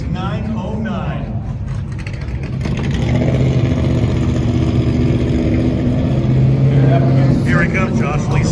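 Corvette and Datsun autocross cars in a desert shootout, engines droning and rising steadily at close range, with an announcer talking over them throughout.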